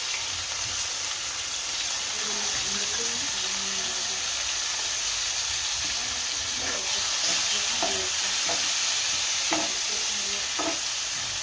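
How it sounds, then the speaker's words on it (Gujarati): Tomatoes sauté in a pan of oil with browned garlic for a Gujarati horse gram curry, producing a constant hissing sizzle with occasional soft stirring clicks and scrapes, steady throughout. "આ ટમેટા નાખશું।"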